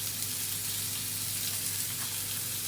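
Steak and onions frying in oil in a pan give a steady, even sizzle that runs unbroken throughout, close by and with no one talking.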